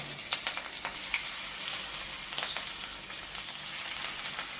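Sardines fry in hot oil in a frying pan, giving a steady, close sizzle with crackling pops and brief spattering bursts throughout, and no voices.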